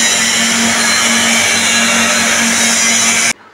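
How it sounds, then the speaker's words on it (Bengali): Stainless steel argon TIG welding, a loud, steady, close hiss with a low electrical hum that runs without a break and then cuts off abruptly just before the end. "ওয়েল্ডিং চলছে, মুভিং করে মারছে। এসএস ওয়েল্ডিং স্কার্ট, এটা অনেক চওড়া ওয়েল্ডিং হবে।"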